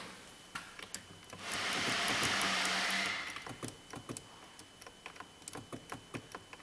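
Small plastic clicks from a truck's power window switch tap out irregularly, close and crisp, around a brief stretch of whirring hiss in the middle; the right front passenger window won't go down.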